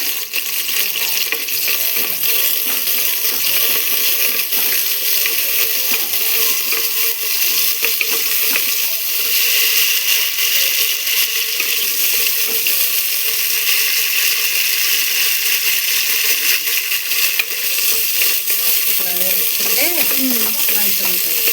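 Dry chillies splutter and sizzle loudly in hot oil in a pan while ivy gourd chutney is being made, a dense, continuous crackle that holds steady throughout with a few faint scrapes.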